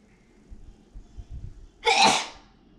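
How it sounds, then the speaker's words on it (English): A single sharp human sneeze bursts out near the end after a few quieter breaths and rustles, loud and close in an otherwise quiet room. "somebody might sneeze by accident"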